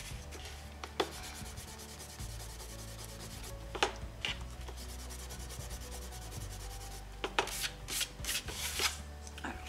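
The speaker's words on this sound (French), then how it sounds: "Je vais tout de suite gommer" An eraser rubs across paper during a scrapbooking craft, making soft, scratchy strokes in short bursts, with a few louder brisk passes near the start and a cluster of quicker rubs toward the end.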